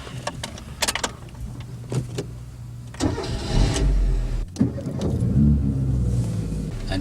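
A learner's car on a driving test pulls away from a car park, the engine rising from idle into a steady, close mid-pitched drone with a few clicks and knocks inside the cabin beforehand.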